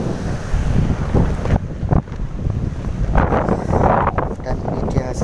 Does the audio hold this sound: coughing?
no